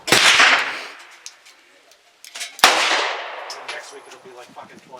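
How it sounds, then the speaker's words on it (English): Two sharp, loud shots from a Bond Arms Roughneck .357 derringer firing jacketed bullets outdoors, each crack followed by a decaying echo tail. "we'll fire a couple more rounds"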